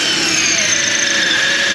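A power drill bores steadily into the catalytic converter of a 2007 GMC Sierra 5.3, its loud continuous whine grinding on without a break and heard alone, up close, for the whole short stretch.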